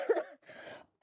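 A person at home coughs close to the microphone, giving a short, sharp cough followed by a softer rasping one and the start of another.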